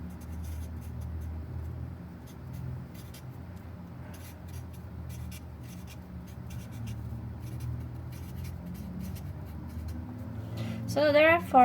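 Marker or pen scratching across a board while notes are taken, a steady close scraping texture running under low room hum, with a brighter squeaky stroke near the end.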